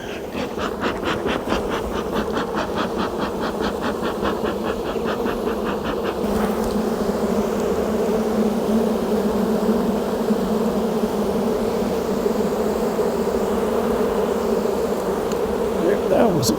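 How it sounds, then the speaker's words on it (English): Dense, loud buzzing of many bees at a hive close by, a continuous droning hum with a faint rhythmic clicking early on. "set this down without smashing a whole bunch of bees."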